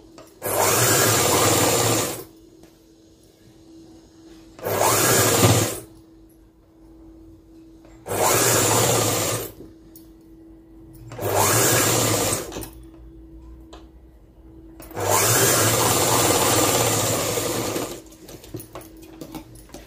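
A sewing machine stitches cloth for a school uniform body langa skirt, running in five loud whirring bursts of two to three seconds each, separated by quiet pauses.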